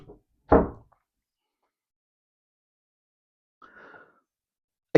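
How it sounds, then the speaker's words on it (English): A car door thuds shut once, close and solid, after a faint earlier tap, followed by quiet and a brief soft rustle inside the vehicle. "I'll get in and shut the door."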